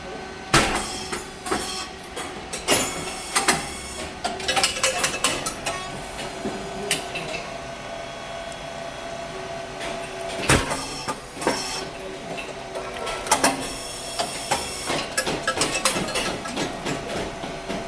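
A SYP4509 rice cake machine with titanium-coated moulds and a hydraulic system holding 20 liters of oil runs close by, giving a steady mechanical hum broken by repeated sharp metallic clanks and bangs at irregular intervals.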